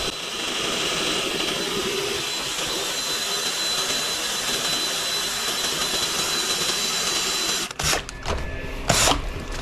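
Paint mixer or shaker spinning a can of gray Deltron DAS sealer with 30-30 hardener in a body shop, a steady loud whirring drone that cuts off near the end, followed by a few knocks and clatters.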